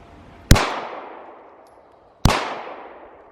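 Two loud, close pistol shots from a Glock 45, fired nearly two seconds apart, each a sharp crack followed by a long echoing decay, with no talk over them.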